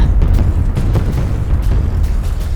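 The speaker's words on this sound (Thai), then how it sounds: "ผมเลยต้องยิงนิวเคลีย์" A nuclear bomb explodes in the WorldBox god simulator video game as a loud, sustained rumbling boom with crackling bursts throughout, dense and close, with no talk.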